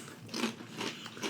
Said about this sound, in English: it was the sound of the Doritos crunching